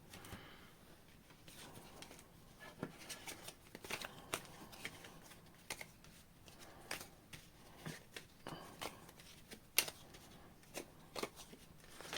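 A deck of tarot cards is shuffled repeatedly, with soft riffling slaps and taps in an uneven rhythm, close and fairly quiet.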